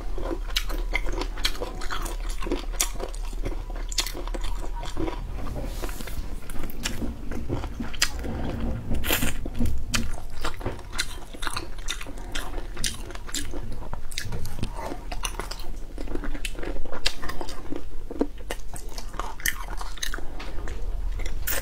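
Chicken feet are chewed and bitten close to the mic, with continuous wet crunching and gnawing that runs throughout and no talking.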